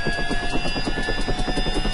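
A helicopter in the video game Arma 3 idles with a steady, rhythmic rotor chop and a constant engine whine, loud and close, with no talk over it.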